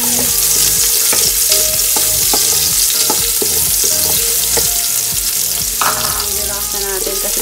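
Chopped onion frying loudly in a hot pan for chopsuey, with a steady bright sizzle and repeated sharp scrapes and clinks of a utensil stirring, close up and without talk.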